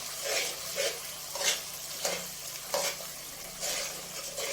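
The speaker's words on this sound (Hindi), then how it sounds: "तो इस तरह अच्छे से मिक्स करते जाएं और भूनते जाएं।" Makhandi halwa being stirred and roasted in a pan, with steady rhythmic scraping strokes about every half second over a soft sizzle. No one talks.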